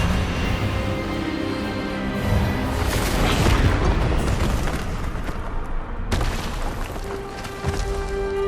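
A loud, rumbling magical blast from an Expelliarmus spell in the Hogwarts Legacy video game swells and crackles through a dense game soundscape, then cuts sharply before a lower resonant tail.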